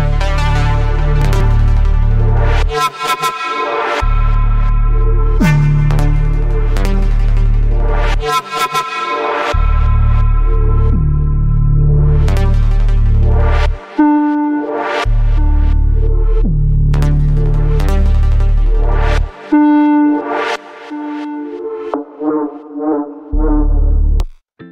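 Dark liquid drum and bass synth pads and basses playing together in an FL Studio production, loud sustained chords over deep bass notes that drop out in short rhythmic gaps, with no drums.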